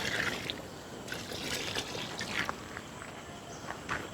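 A small amount of water trickles and splashes into a pan of Hyderabadi masala chicken, close and moderately loud, with a few light clinks through the short pour.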